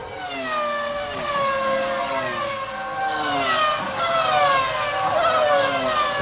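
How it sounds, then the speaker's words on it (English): Formula One engines from the 1996 Australian Grand Prix howl at high revs as the cars pull away from the start, overlapping rising and falling whines that stay loud and continuous. "Welcome sound of Formula One engines."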